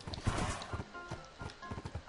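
Horse hooves in Minecraft, a horse being led along: a quick, quiet series of soft clip-clop steps in an uneven rhythm over a brief moment.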